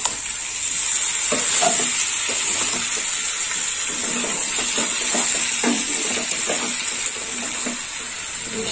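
Jackfruit and prawn curry sautéing in a pan sizzles loudly and steadily, with repeated scraping stirs of a spatula throughout and no voices.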